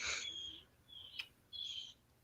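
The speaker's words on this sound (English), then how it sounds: "Now I hear a bird." A bird calls outdoors in three separate high, drawn-out notes with short pauses between them, faint and distant over quiet background noise.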